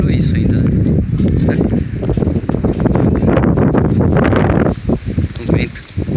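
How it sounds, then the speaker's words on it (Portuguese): Strong wind buffets the microphone in heavy, continuous gusts in a park among trees, with a voice speaking faintly underneath. "Com vento."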